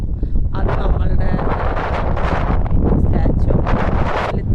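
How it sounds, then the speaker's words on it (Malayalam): Strong wind at the Lepakshi hilltop buffets the microphone in a loud, continuous low rumble, with brief gusting surges throughout. "നല്ല കാറ്റ്."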